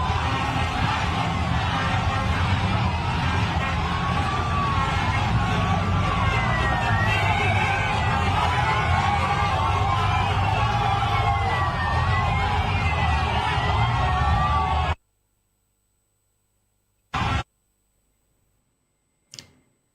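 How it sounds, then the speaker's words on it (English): A mammoth crowd in Dakar, Senegal, chanting Sadio Mane's name as the AFCON trophy returns, a dense roar of voices with rising and falling chant lines, which cuts off abruptly near the end, followed by near silence and a couple of short bursts. "the people of Senegal chant Sadio Mane's name as the AFCON trophy is back in Dakar"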